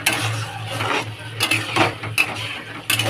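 A metal lid clatters onto a cooking pan of frying spices, several sharp clinks and scrapes of metal on metal, close and fairly loud over a low kitchen hum.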